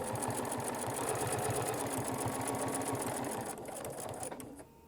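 A domestic sewing machine doing ruler work free-motion quilting on fabric, a fast, even mechanical stitching rhythm running close and steady before slowing and fading near the end.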